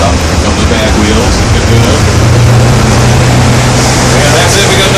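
An amphibious duck tour boat's engine drones loud and steady at low pitch as it leaves the Charles River in Boston, rumbling continuously with a slight swell midway.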